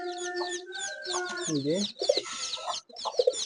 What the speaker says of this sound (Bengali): দেখেন এই যে কবুতরের বাচ্চা ফুটছে, ডায়মন্ড কোয়েলের ডিমও ফুটছে